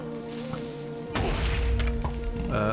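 An enemy blows up during gameplay in Super Hostile: Legendary, a sudden thudding burst rising over a steady game-music bed, followed by a few smaller knocks and clicks.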